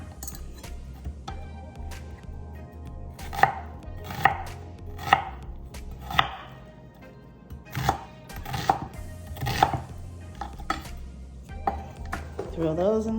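A knife chops through a white onion on a board with a series of sharp, distinct thunks, spaced irregularly and fairly close, with light clinks of kitchenware now and then.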